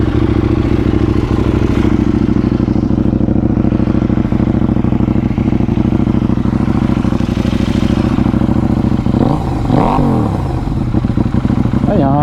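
A KTM 790 Duke motorcycle engine and exhaust idle loudly and steadily close by, a deep throbbing rumble that rises briefly in a short rev near the end, with a voice speaking over it.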